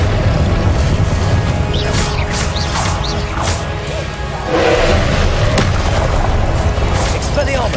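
Confringo blasting spell explosions in the fantasy game Hogwarts Legacy: loud, booming fiery bursts and crashing impacts layered over continuous combat noise, with a few sharp hits throughout.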